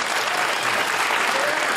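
A studio audience at a televised Q&A panel discussion gives dense, continuous applause. The clapping is loud and sustained throughout, with no talking over it.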